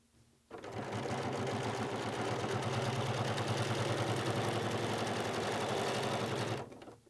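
A sewing machine runs steadily for about six seconds, stitching binding onto a quilt with a fast, even mechanical whir that starts and stops cleanly, loud and close with no talking.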